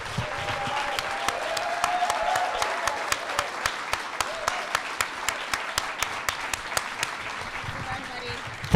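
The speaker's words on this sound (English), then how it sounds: "please join me in giving a round of applause to Garth Mullins" A live audience applauds for Garth Mullins at a talk on surviving the war on drugs, with dense steady clapping across the room, sharper individual claps standing out and a few voices underneath.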